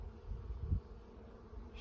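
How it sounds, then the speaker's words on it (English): Honeybees buzz faintly around a hive's deep brood box in a steady low hum, with one slightly louder pass close by and no talking. "It's been interesting to learn from these bees and watch them do their work."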